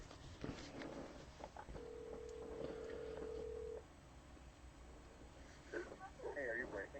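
A telephone rings once with a steady two-second electronic tone, followed by faint shuffling and quiet background noise, then brief muffled movement near the end.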